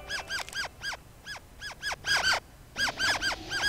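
Bird chirping in Banjo-Tooie inside Terrydactyland mountain: a rapid series of loud, close, squeaky arched chirps, repeated over and over in quick bursts with a few overlapping calls.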